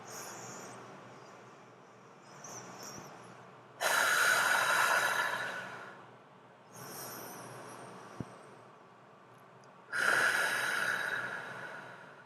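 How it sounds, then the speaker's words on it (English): A person breathes deeply, drawing two long slow inhales in through the nose and letting two long hissing exhales out through the mouth. Each breath is close and clearly audible, with quiet pauses between them and no talking. "So let's take a couple of breaths."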